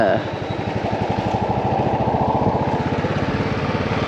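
Motorcycle engine running steadily while riding through a large vegetable market in Tamil Nadu, a close, continuous rhythmic putter with busy market noise around it.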